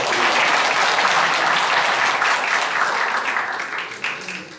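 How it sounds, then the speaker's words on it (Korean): Loud, sustained applause from a forum audience at a chamber of commerce hall in Gumi, a dense wash of clapping that holds steady for several seconds and starts to thin near the end, with no voices over it. "우리 큰 박수로 다시 한번 해주십시오"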